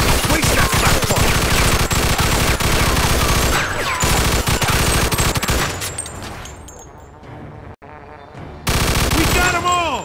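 Machine gun fire in Mafia 2 rattles in loud, sustained rapid bursts, dropping away briefly before a final burst resumes at full volume, with faint voices beneath.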